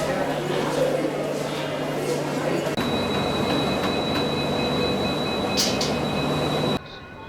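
A Shivamogga Town–Yesvantpur daily express train passes close by with a loud, continuous rumble and rolling clatter, steady tonal hums and brief high wheel squeals, before the roar suddenly drops away at the end.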